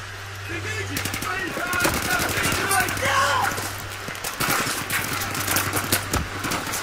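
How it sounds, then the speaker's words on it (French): Video game gunfire played on an Aorus X7 V2 gaming laptop, with rapid bursts of automatic fire and scattered shots over a steady hum while someone talks over it. "Ça canarde de partout."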